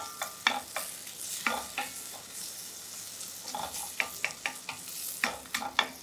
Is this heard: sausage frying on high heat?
yes